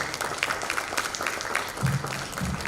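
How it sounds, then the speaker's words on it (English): A conference audience at an international engineering and computing conference gives a round of applause, soft, distant-sounding clapping spread evenly through the room. "So that itself deserves a round of applause"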